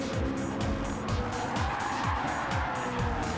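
A race car at Brands Hatch Indy in a racing game losing grip, its engine droning steadily while repeated tire squeals and skids sweep downward, loud and close with no talk.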